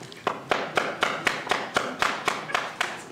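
Hands clapping in a steady, even rhythm of about four claps per second, close and dry, like applause at a graduation.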